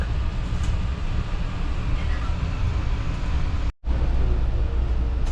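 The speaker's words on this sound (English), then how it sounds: "There goes one of those trains by that we're having to wait for." A steady, heavy rumble of a train rolling past, continuous and loud for several seconds with a brief dropout near the end.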